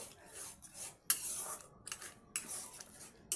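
Paneer being stirred and sautéed in a pan, a spoon rasping and scraping in short bursts with brief pauses between strokes, close and fairly quiet.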